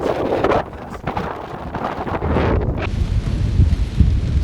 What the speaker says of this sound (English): And here comes the main wind gust that's coming in.